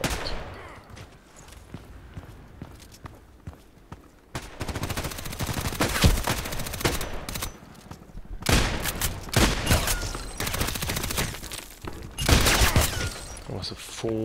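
Bursts of rapid automatic gunfire crackle in the online shooter Contract Wars, with long dense volleys separated by short pauses, loud and close, with occasional breaking-glass and footstep sounds and a voice speaking in places.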